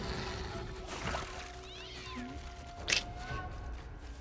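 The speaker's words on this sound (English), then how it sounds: "Chase the cat away" A cat meows amid game combat in Divinity: Original Sin II, a couple of short tonal cries sitting over a steady ambient bed of water and background effects, fairly soft rather than prominent.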